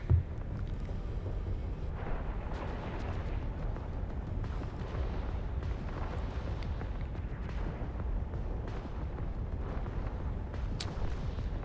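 Spaceship guns in the EVE Online game fire at a target caught in a stasis web, a steady stream of booming, rumbling shots layered over one another and holding a dense, loud roar throughout.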